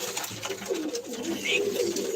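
Pigeons released for a flying tournament coo steadily and close by in a continuous soft, rolling murmur, with faint voices in the background.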